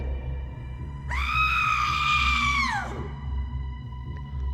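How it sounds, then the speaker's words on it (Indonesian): An ear-piercing scream in an audio story rises suddenly and holds for about two seconds before trailing off, loud over a low background drone. "Terdengar suara jeritan yang memekakkan telinga yang berasal tak jauh dari lokasi Jaka berada"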